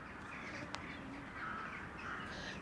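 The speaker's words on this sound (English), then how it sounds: "the birds are giving us a show" Birds, likely starlings, call near a bridge on a nature walk in Vienna's Döbling district; faint, scattered chirps and caws sit over a steady outdoor background hiss.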